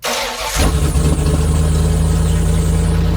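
A Ford Bronco engine with stock exhaust cranks and catches after half a second, then settles into a loud, steady rumbling idle close by.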